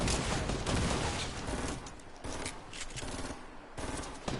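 Gunfire in the Fortnite video game, rapid sustained bursts of automatic shots filling the whole stretch, loud and dense with brief dips between volleys.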